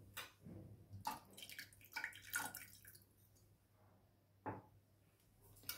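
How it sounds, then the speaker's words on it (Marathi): Water poured from a glass into a pot of amti, a Marathi lentil curry, with a few faint splashy bursts of pouring and sloshing separated by quiet pauses. "थोडंसं वरती टाकूया पाणी आपण।"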